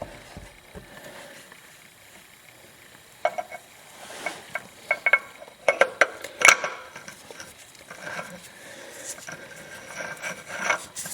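Oil filter on a 2006 Lexus IS350 being turned slowly by hand onto its threads, giving irregular close rubbing, scraping and light knocks that grow busier toward the end, with no talking.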